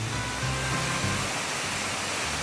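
A steady, full roar of falling water fills the whole clip, broad and constant like a nearby waterfall, with no voices.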